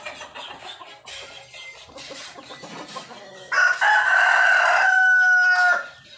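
A rooster crows loudly and close by, a long drawn-out call, after a stretch of mixed bird clucking and background noise.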